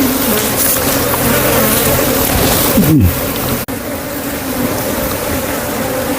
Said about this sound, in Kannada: ತುಂಬ ಜೇನು ಹುಳುಗಳು ಆಲ್ರೆಡಿ ಕುಡಿಯೋಕ್ಕೆ ಟ್ರೈ ಮಾಡ್ತಾ ಇದ್ದಾವೆ